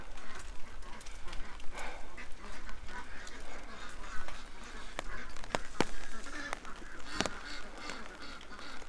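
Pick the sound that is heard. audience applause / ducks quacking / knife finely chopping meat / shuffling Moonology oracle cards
ducks quacking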